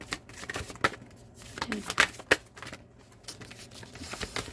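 Tarot cards are shuffled near the mic in several quick papery riffles and flicks, with short pauses between bursts and no talking.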